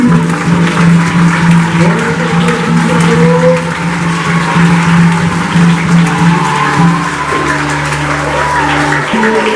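Sustained applause from a crowd at a school anniversary celebration, dense and loud, with a steady tonal drone running underneath throughout.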